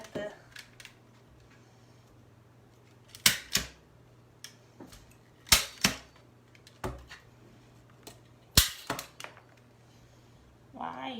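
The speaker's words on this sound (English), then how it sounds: "fold it over before you staple anything to it, because if not, your staples will go right through the sign" Sharp staple-gun clacks fasten a paper sign onto a homemade candy wreath, about seven distinct snaps spread across a quiet background with a low steady hum.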